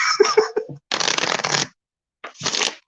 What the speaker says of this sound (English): because this deck is not sleeved, I can shuffle it the old-fashioned way